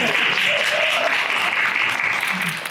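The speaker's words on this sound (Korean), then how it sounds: "많이 긴장했으니까 박수 좀 많이 쳐주세요" Audience applause at a musical press call for the show Once, a dense, steady wash of many hands clapping in a hall that holds evenly for under three seconds and thins slightly at the end, with a faint voice underneath.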